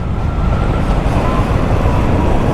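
A 1984 Harley-Davidson FLT Tour Glide motorcycle pulls hard through its gears, a loud, close engine roar that holds steady throughout the short stretch.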